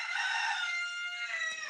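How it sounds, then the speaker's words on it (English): A rooster crows once, a bright, drawn-out call that is loud and close, with no other sounds around it. "A lot of people tell me when they hear the rooster"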